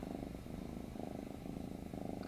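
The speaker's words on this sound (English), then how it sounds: "you can hear him purring" A sick, recovering kitten purring up close, a soft rhythmic rumbling purr with steady breath-paced cycles, quiet and continuous with no talking.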